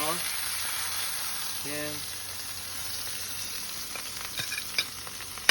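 A pork chop fries in oil in a pan with a steady, close sizzle, while a voice speaks briefly and a few light clinks and stirring knocks come near the end.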